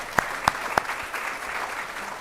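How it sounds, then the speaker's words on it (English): An audience at an International Day of Older Persons event claps to welcome senior citizen leaders: three sharp, prominent claps up front, then a softer, continuous patter of applause carrying on to the end. "I would like you to welcome them with a huge round of applause"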